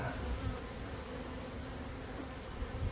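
Carniolan honeybees in a horizontal hive during a late-season inspection give a steady, dense buzzing drone that stays close and continuous, with no break.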